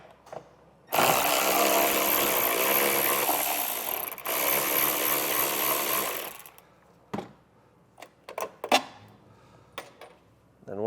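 A power drill runs steadily for about six seconds, backing out the screws that hold a vehicle taillight in place, then stops, followed by a few short handling clicks and taps nearby.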